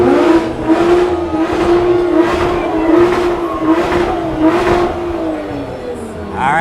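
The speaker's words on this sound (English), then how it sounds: "All right, rev up your engines." Car engines rev and whir at an Independence Day parade, with the sound sustained and loud and close by, rising and falling in pitch over several seconds.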